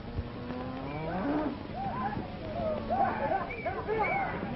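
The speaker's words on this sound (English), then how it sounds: "get those cattle back" Cattle mooing in a 1945 western, several low drawn-out bellows from multiple animals overlapping across the stretch, moderately close, with a herd-like murmur beneath.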